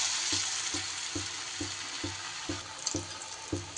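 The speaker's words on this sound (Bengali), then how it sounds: "ধোকার ওই টুকরোগুলোকে তো একটু ডিপ ফ্রাই করব।" Pieces of pumpkin dhoka deep fry in very hot oil with a loud, steady, close sizzle. A faint low thud repeats at an even rhythm underneath.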